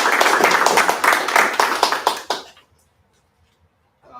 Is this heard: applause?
yes